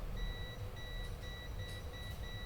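A multimeter in continuity mode beeps against a shorted component on a circuit board, sounding a clear repeating electronic tone in even pulses with short gaps over faint background hum; no voices.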